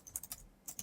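Quick, faint typing on a computer keyboard during a lesson, a handful of light clicking keystrokes in two short bursts with a pause between.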